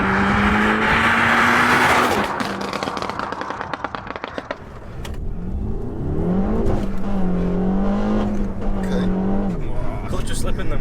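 A front-wheel-drive stage 2 Peugeot 308 GTi with about 300 bhp pulls hard from a start in first gear, spinning its wheels as the clutch slips. The engine note is loud and close, surging, dipping and climbing again, with voices over it.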